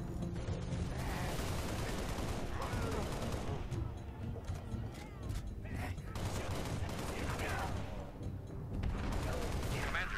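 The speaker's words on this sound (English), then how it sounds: "Use a massive machine gun." Sustained machine gun fire in the Halo Reach Sword Base mission, dense rapid bursts with booming impacts running continuously and loudly throughout, overlapping other battle noise.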